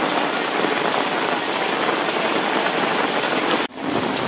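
Heavy rain pours down in a dense, continuous roar, close and loud, with a brief dip near the end.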